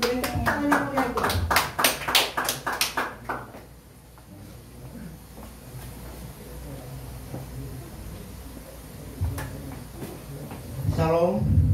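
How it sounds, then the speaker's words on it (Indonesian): Audience at a church Christmas service claps briefly at the start, sharp close handclaps over a voice, then the room settles into quiet murmuring before speech resumes. "Beri tepuk tangan yang meriah itu."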